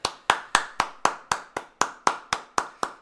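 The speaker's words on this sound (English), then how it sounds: "Where's my round of applause, Meatball?" Slow, deliberate hand claps, twelve sharp even strikes about a quarter second apart, close and loud with nothing else behind them.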